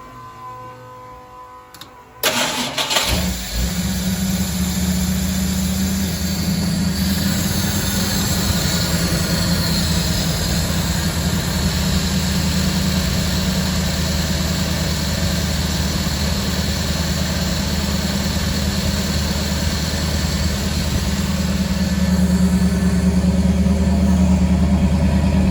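A 1974 Ford F100 engine, freshly fitted with electronic fuel injection, fires up after a brief start and settles into a steady, loud, continuous idle drone close by, with no talking.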